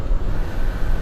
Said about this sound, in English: This does have a fan and a heater that heats up the front windscreen